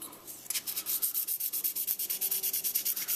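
A video game cartridge is rubbed with sandpaper in quick, steady back-and-forth strokes, close and distinct, starting after a brief pause and continuing in an even rhythm without talk.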